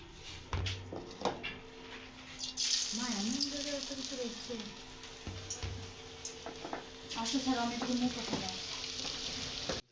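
Onion pakoras fry in mustard oil on a rainy day, a steady close sizzle with occasional stirring clatter while people talk over it.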